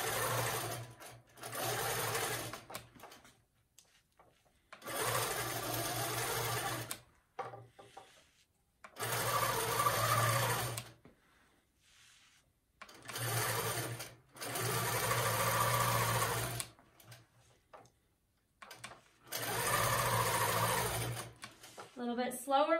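Longarm quilting sewing machine stitching in repeated runs of a few seconds each, a loud, close, steady mechanical whir with short quiet pauses between passes.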